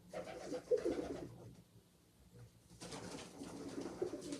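Outdoor pigeons coo in soft, low, burbling calls. One burst comes first, then a short near-silent lull, and then a second stretch of overlapping coos at a moderate, steady level.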